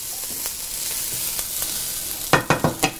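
Onions sauté in a pan with a steady, close hiss of sizzling, then a quick run of four sharp spatters or stirring clacks near the end, with no talk.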